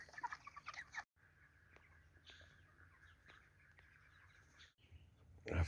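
Chickens cluck and murmur softly at close range, with a few sharper calls and some rustling, punctuated by brief louder bursts.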